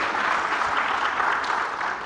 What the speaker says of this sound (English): Please do a big round of applause for her.